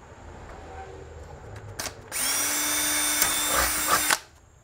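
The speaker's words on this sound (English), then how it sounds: "we can drill a hole right through here" A power drill with a 1/8-inch bit bores through plastic on a Tesla Model 3 aero cover, a single steady high-pitched whine lasting about two seconds after a brief start-up burst, close and loud, then stopping abruptly.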